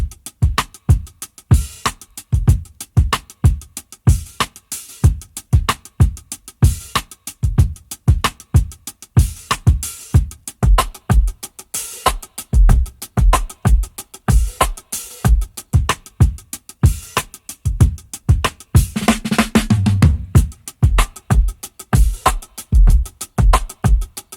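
A dry, compact-sounding drum break, recorded with only a couple of mics for a small vintage sound, plays loud and alone, kick and snare hits repeating in a steady looping groove with a brief fill near the end.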